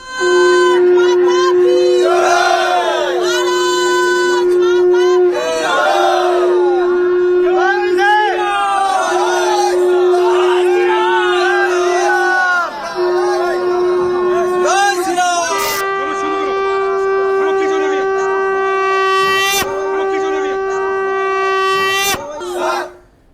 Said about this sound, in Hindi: ये भीड़ और ये शोर